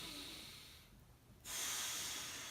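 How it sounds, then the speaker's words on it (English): A deep breath: a faint, airy inhale that tapers off, then after a brief pause a louder, steady rush of breath, close by, with no talking. "So take a deep breath."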